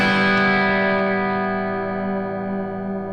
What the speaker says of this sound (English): Let's try the chorus.